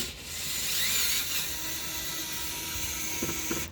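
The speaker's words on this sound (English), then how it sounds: "So this is the little electric driver that I've got, and there are 1, 2, 3, 4, 5, 6 M8s, socketed cap screws." A small electric driver turns M8 socket cap screws holding a trunk panel on a rear-mounted turbo Audi RS4. It gives a steady close whirring hum with faint ratcheting clicks near the end.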